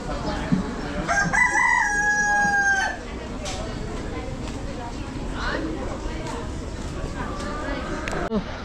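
A rooster crows loudly and nearby at a market in Nagaland, India, where chickens are sold, with background chatter and market bustle continuing after the call.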